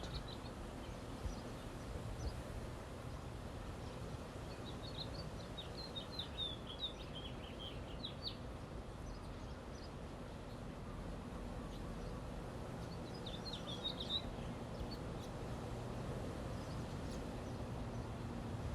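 Songbird calls chirping faintly in two short bursts over a steady, loud background of ocean waves clashing on shore.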